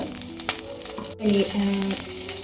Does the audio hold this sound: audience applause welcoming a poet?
no